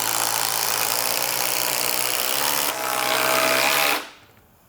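Milwaukee M18 Fuel impact drivers running on a high-output 6.0 battery give a loud, close, sustained high-pitched motor whine that shifts pitch once midway, then spins down and stops, with no speech.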